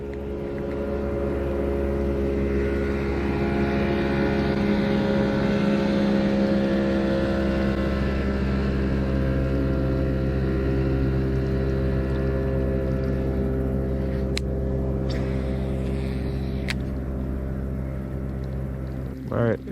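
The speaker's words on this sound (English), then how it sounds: "I think I hear a boat." A motorboat passing on the water near a fishing spot, its engine a steady low drone held for the whole stretch, fairly loud and close.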